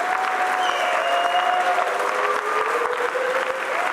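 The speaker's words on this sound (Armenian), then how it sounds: "Լավ, եկեք բարձր, շատ բարձր, ծափարենք Տիգրանին։" A comedy-show audience applauds for Tigran, steady dense clapping throughout, loud and close, with no voices over it.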